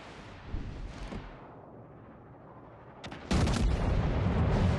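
Secondary guns on the Kongo battleship fire in World of Warships: Legends, rolling booms that swell into a loud sustained barrage near the end, with no talk.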